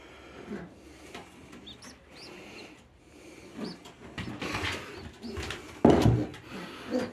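Pigeons in a loft give soft, low coos along with some fluttering and shuffling, near but not loud, with a louder burst of activity toward the end.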